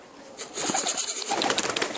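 Pigeons being fed flutter and shift nearby, with bursts of wing flapping and soft cooing rising after a quiet start.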